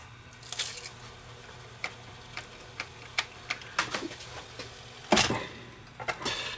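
A Sony SLV701 VCR with a take-up spool that will not turn tries to rewind a tape, giving scattered mechanical clicks and ticks over a low motor hum, with a louder clunk partway through.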